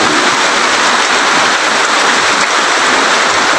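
Steady rain falling on plant leaves at a farm, a dense, even hiss of countless drops with no break, alone and without talk.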